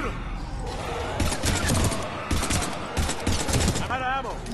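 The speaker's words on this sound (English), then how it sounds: "Shoot him!" Rapid bursts of automatic gunfire crackle in a firefight on Mars at the Prothean Archives in the video game Mass Effect 3, with repeated volleys and a brief voice near the end.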